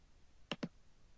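Two quick, crisp computer mouse clicks close together, near and sharp against a quiet background, with nothing else audible.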